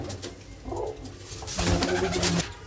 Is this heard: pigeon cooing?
yes